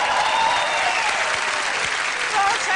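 Studio audience applauding on a Brazilian TV talk show, a dense, steady wash of clapping that fills the whole stretch at close range.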